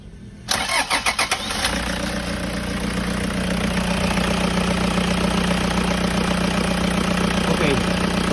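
A 2016 Toyota car engine cranks with a few quick turns, catches, and settles into a steady, loud idle close by. The power steering hose has just been repaired and the fluid refilled.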